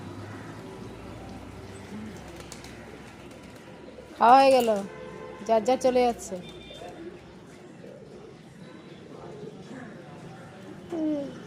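Pigeons feeding on scattered rice give a few short, throaty coos in two bursts midway, close by, while a person talks over a soft background hum.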